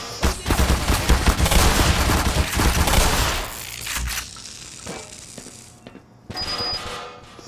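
Automated turrets in the video game Black Mesa firing long, loud rapid bursts of gunfire that taper off into scattered clanks and mechanical noises, with a brief electronic beep near the end and no talking.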